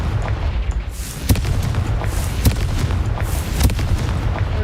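Explosive Confringo spell blasts in Hogwarts Legacy, a series of sharp booms spaced roughly a second apart over a dense, rumbling background.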